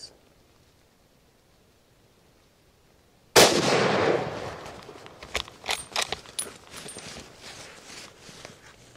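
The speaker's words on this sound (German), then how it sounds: "Jetzt muss er schießen." A single sharp, loud rifle shot cracks during a roebuck hunt in the rutting season, breaking near silence and followed by rustling, handling noise and scattered knocks.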